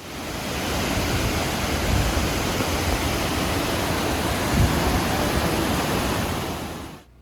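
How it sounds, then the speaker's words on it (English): Reed Waterfall in Alaska gives a constant broadband rushing roar of falling water, steady and fairly loud throughout before cutting off at the end, with no voices. "nearby there is a waterfall"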